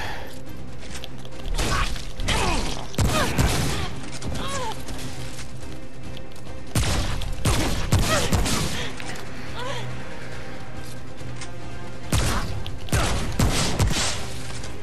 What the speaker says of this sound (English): Who's still shooting at me?